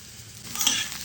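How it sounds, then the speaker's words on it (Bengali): Small diced onion frying in mustard oil in a wok, giving a soft, steady sizzle that swells slightly midway through, close and alone with no talking. "সেখানে আমরা একটা ছোট্ট পেঁয়াজ ডুমো ডুমো করে কেটে একটু অল্প ফ্রাই করে নেব"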